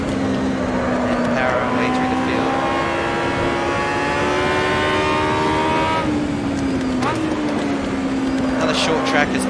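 Aussie Racing Cars idling and revving on a formation lap at Darwin in the Automobilista racing game, steady engine drone with rising and falling pitch sweeps throughout, loud and continuous, with a voice talking over it.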